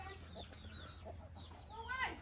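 Hill chickens on a hillside durian farm in Khánh Sơn cluck and chirp softly in short scattered calls at a distance, with faint voices and rural background noise.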